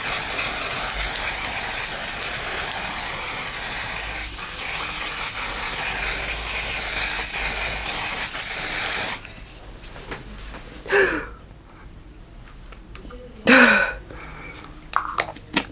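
A long, loud continuous hiss of One Size Until Dawn makeup setting spray misted close by for several seconds, then stopping, followed by quiet with a few short breathy sounds and rustles.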